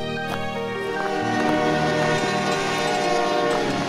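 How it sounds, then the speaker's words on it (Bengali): A cartoon train pulls into a village station, its sustained horn blaring loud and steady over the rumble of the cars for the whole stretch. "এরপর ট্রেন ঢোলপুর স্টেশনে গুঞ্জনকে নামিয়ে দেয়"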